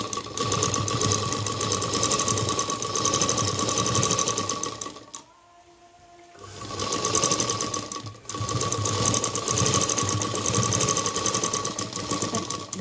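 A sewing machine stitches a belt onto a dholki bag made from a small leftover fabric piece, a loud steady mechanical whir running nearly throughout, with a brief pause in the middle before the motor starts up again.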